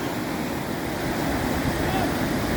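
Boats speed past on a river among rocks at lowered water levels, their engines blending into a steady broadband wash of water and wind noise that holds evenly throughout.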